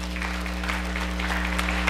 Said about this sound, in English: You can applause.